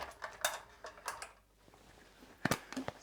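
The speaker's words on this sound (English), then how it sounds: "that's my regular slicer" A kitchen vegetable slicer cutting vegetables into julienne strips during meal prep, heard as a few quiet, sharp clicks and scrapes in short bursts with pauses between them.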